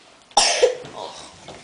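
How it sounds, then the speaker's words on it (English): A single sharp cough close by, a quick burst followed by a softer trailing breath in a quiet room. "Cough, cough."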